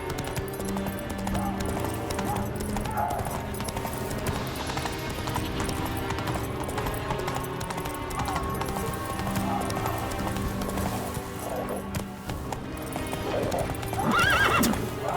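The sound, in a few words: horse Roach hooves and neigh, from video game The Witcher 3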